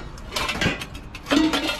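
Large stainless steel cooking pots clank as they are picked up and handled, a few short metallic knocks and scrapes, close by and with no talking over them.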